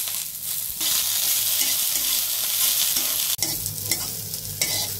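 Chopped coriander leaves, onion and garlic frying in a pan for bharta make a constant close sizzle under repeated scraping stirs, with no talk.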